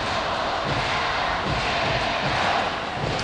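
Fans in the third-base stands clap at a high school baseball game, a broad, steady wash of crowd applause at a distance that carries evenly throughout with no voice over it.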